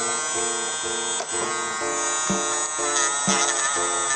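A ValueMax V004144A mini grinder engraver runs steadily with a loud, close electric whine and buzz, its drone holding even while faint clicks come and go in the background.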